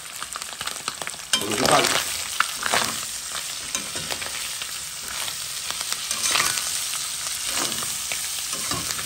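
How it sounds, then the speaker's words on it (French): Onions and ham sizzle and crackle steadily in a frying pan while the ingredients are turned over with occasional scraping stirs; a voice speaks briefly over the cooking. "Lâcher aussi les oignons dans le jambon."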